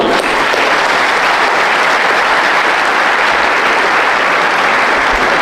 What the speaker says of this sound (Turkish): hepinizi onları alkışlamaya davet ediyorum